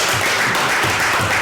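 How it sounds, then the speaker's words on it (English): A debating audience gives a short round of applause as a toast of gratitude to their president, a dense, loud, continuous patter of many hands throughout. "short applause"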